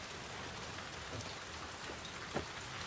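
Steady rain in the video game The Last of Us Part 2, a soft continuous hiss of drops falling on surfaces with a few slightly louder splashes, faint and with no talk.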